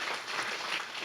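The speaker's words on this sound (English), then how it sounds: "So I think we should give all three of our presenters a really rousing round of applause." A tech meetup crowd applauds the startup presenters in a brief, dense wash of clapping with no individual claps standing out.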